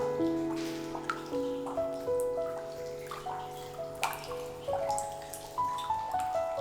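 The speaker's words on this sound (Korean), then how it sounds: "한없이 맑은 소리를 내는 빗방울." Raindrops fall and drip into water in a clear, steady rhythm, each drop a bright ringing plink, close by and alone.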